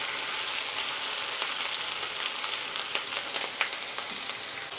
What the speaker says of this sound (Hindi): दो तीन मिनट के लिए पनीर और शिमला मिर्च को फ्राई कर लिया है।